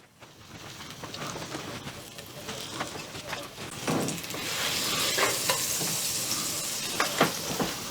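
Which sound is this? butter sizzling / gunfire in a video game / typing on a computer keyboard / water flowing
butter sizzling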